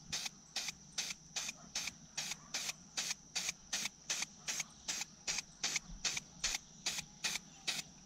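A spray can of clear varnish is sprayed onto a car part in short bursts, about sixteen even hissing pulses repeating steadily at close range, with no talking.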